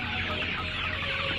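Chickens cluck steadily inside a cage during a farm check-up, a dense, continuous flock chatter at moderate level with no talking.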